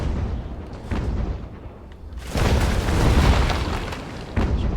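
Sailing ship cannons boom in the naval game Ultimate Admiral Age of Sail, a loud rolling broadside of overlapping blasts swelling midway with rumbling tail.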